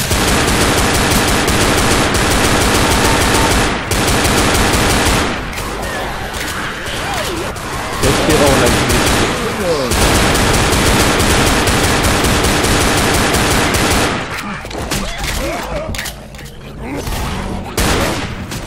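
Dense, continuous gunfire from zombie shooting in the co-op game Left 4 Dead, loud rapid bursts filling nearly the whole stretch with a few brief dips in intensity.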